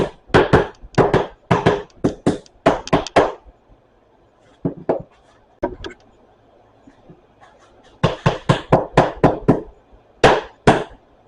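Sharp hammer taps on staples driven into a thick plastic golf cart seat base for an EZGO TXT, in quick bursts of several close, loud strikes separated by pauses, with fewer isolated taps in the middle.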